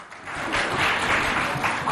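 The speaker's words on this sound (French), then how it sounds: "On applaudit" An audience at a school talent show in Moundou, Chad, applauds a girl invited up to sing the national anthem. The sound is a moderate, continuous wash of clapping that swells after a softer start and holds steady.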